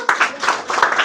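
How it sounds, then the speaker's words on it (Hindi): A group clapping loudly at a monthly exam results and Class 10 prize-giving, a brief burst of dense, rhythmic claps close by. "पहले जोरदार ताली बजाओ इनके लिए"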